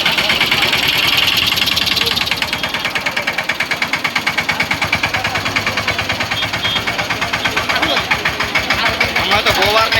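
A tractor engine chugs steadily at a cowshed, a continuous rhythmic knock running throughout, near and loud, with people talking over it.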